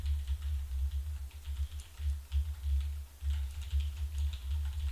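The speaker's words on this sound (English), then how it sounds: "You can hear me typing." Steady, quick keyboard typing with irregular clicks, close by, over a low constant hum.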